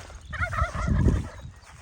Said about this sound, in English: Oh, I got my call and response turkeys again.